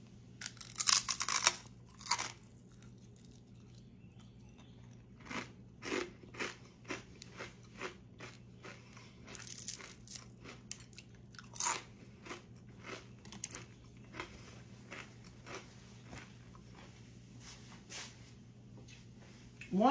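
Close, crisp crunches and bites of crispy fried lacy cornbread come in irregular bursts over a quiet background hum.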